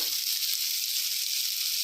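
Sesame seeds roast in a pan, giving a steady bright sizzle that carries evenly and loudly throughout with no talking.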